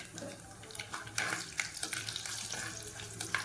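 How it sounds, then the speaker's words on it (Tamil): Half a spoon of mustard seeds crackles and pops in hot oil in a pan while making brinjal kara kuzhambu, a dense, steady spluttering sizzle throughout. "ஒரு அரை ஸ்பூன் கடுகு வந்து சேர்த்துக்கிறேன். இது வந்து நல்லா பொரியணும்."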